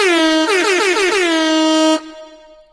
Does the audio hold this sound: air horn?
yes